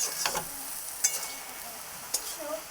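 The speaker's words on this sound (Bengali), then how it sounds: "গ্যাসটা কমিয়ে দিয়ে আস্তে আস্তে নেড়ে নেবো, জলটা শুকিয়ে নেব।" Taro leaves and shrimp stirred in a pan over low heat: a soft, steady sizzle broken by a few distinct scrapes and clicks of the spoon against the pan.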